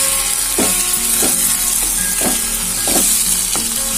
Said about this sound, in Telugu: వంకాయ ముక్క ఇరగకుండా తిప్పుకొని కలుపుకోవాలి